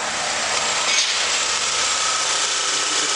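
A Great Wall X240 with a low-kilometre engine (37,000 km) idles steadily at close range, a constant even rumble with no talk over it.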